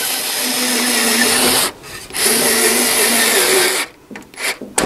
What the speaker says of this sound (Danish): Så skal vi se, om der er power nok i den her til at kan skrue det hele sammen igen.